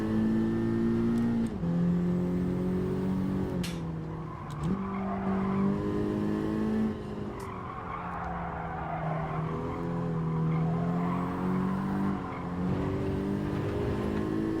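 Turbocharged race car in Gran Turismo 7 holding a loud, continuous engine drone that rises and drops with gear changes, with tire squeal and scattered clicks over it.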